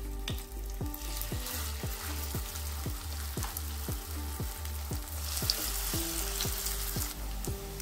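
Water lily fritters frying in oil in a wok give a steady, close sizzle and crackle, with repeated short stirring or spatula scrapes throughout and no talking.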